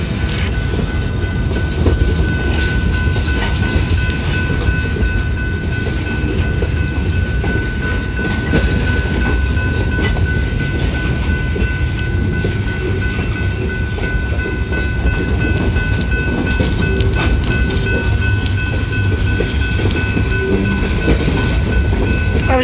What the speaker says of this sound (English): It's a GP35 engine.